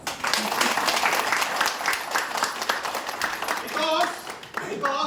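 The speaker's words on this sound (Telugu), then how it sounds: "ఒకసారి బిగ్ రౌండ్ ఆఫ్ అప్లాజ్" A big round of applause at a business meeting in Hyderabad, loud dense clapping from a crowd filling the room for several seconds, then tapering off as a few voices and a voice come through near the end.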